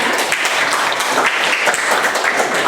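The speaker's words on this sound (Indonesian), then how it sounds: "Boleh tepuk tangan untuk Henda" A classroom audience claps for a student, Henda, during a university fungi lesson; a brief burst of dense, even applause runs without pause and no one speaks.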